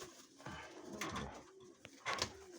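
Soft coos from pigeons in Mykolaiv repeat a few times against a quiet background, with a brief louder burst near the end.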